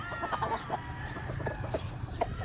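Roosters (stags) crowing and clucking in a yard, with overlapping calls and short clucks carrying steadily at moderate distance through the whole stretch.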